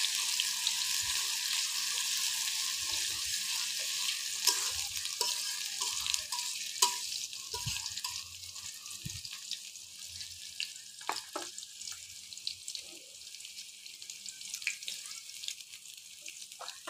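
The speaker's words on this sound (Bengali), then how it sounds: "পেঁয়াজটা আমি লাল লাল করে ভেজে নিচ্ছি।" Onions fry in hot oil in a pan until reddish brown, giving a soft continuous sizzle with occasional stirring scrapes and light clicks. The cooking sits close by and no one speaks.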